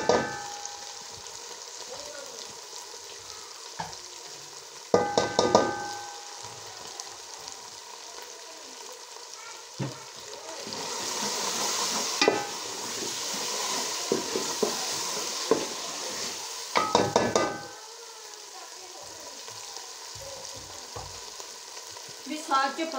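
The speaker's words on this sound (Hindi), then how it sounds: "अब तड़का लगाने लगे हैं।" Hot oil sizzling and crackling steadily as spices fry for a tadka on sarson ka saag, with occasional clinks and scrapes of a utensil against a pan.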